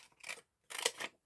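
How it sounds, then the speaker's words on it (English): Two quick snips of small scissors cutting paper up close, separated by a short pause, with a faint click at the very end. "Children's scissors."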